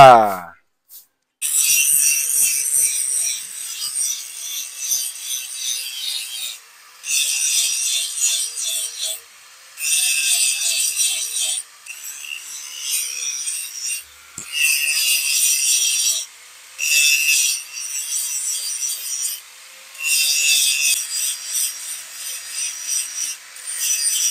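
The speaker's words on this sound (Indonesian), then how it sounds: "Kita lihat Bapak menggerinda teknik sabeh emas" A keris blade is ground for the sabeh emas pamor technique with a bright, harsh abrasive rasping. It runs in repeated bursts of several seconds with short silent pauses between them, close and fairly loud.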